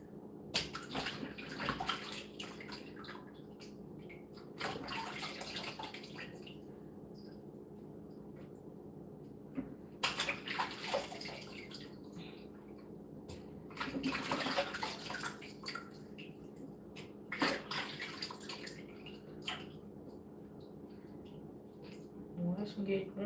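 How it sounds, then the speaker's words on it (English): Food being washed by hand in a bowl of water with vinegar in a home kitchen, with intermittent splashing and sloshing, close and moderate, while someone talks. "I'm washing it with vinegar."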